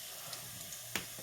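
Pierogies sizzle and fry in a pan, a steady soft crackling hiss with a few small pops, close and alone without speech.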